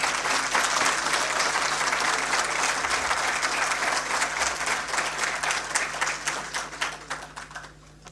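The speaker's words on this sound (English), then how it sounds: "please give a big round of applause to the Honorable Chief Justice of India" An audience at a formal felicitation function for India's Chief Justice breaks into loud, sustained applause, a dense wash of clapping that stays strong before thinning into scattered claps at the end.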